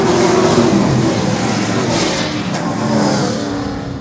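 Pack of late model race cars roaring off the corner at the start of a race at Seekonk Speedway, a loud sustained engine drone swelling and easing as the field accelerates, steady throughout with no talking.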